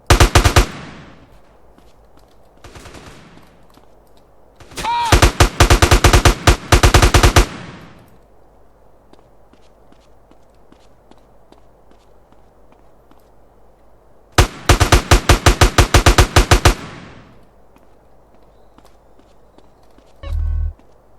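Rapid automatic gunfire in the video game GTA San Andreas with the Left 4 Theft zombie mod, loud bursts of rattling shots separated by quiet gaps, several long volleys and a short final burst.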